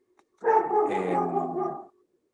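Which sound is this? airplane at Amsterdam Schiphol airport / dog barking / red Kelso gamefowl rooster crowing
dog barking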